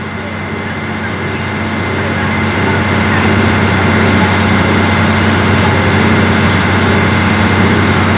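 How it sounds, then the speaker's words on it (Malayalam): A passenger boat's engine on a river in Alappuzha, a loud, steady low diesel drone with constant rumble and hum that swells slightly and holds throughout. "ഇതാ നമുക്ക് ഓപ്പോസിറ്റ് സൈഡായിട്ട് ഒരു യാത്രാ ബോട്ട് വരുന്നുണ്ട്"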